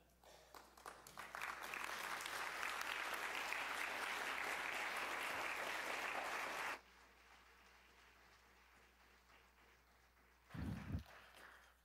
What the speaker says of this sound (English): thank you also for supporting him with that applause